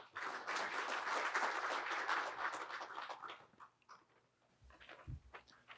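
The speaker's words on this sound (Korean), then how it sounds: "큰 박수 부탁드립니다" An audience at the opening ceremony of a maritime strategy seminar claps loudly for several seconds. The applause then thins into scattered claps, with a few low bumps near the end.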